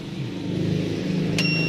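Steady engine rumble from a car out on a road trip, heard from inside the vehicle as a continuous mid-level drone with a brief sharp click near the end.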